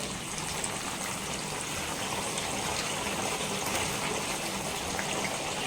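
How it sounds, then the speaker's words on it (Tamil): Eggplant washed under a steady stream of running tap water, a loud continuous gushing splash that holds constant throughout, close by and with no talking. "இப்போ வந்து பார்த்தீங்கன்னா நான் வாஷ் பண்ணுறது கத்திரிக்காய்"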